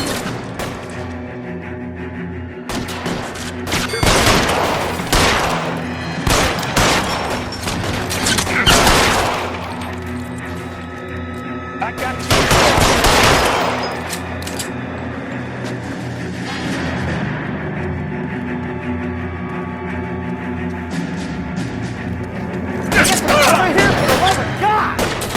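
Bursts of gunfire ring out during a shootout in L.A. Noire, with clustered volleys of shots repeating across the scene and a heavy final flurry. Game voices and background sounds fill the gaps between them.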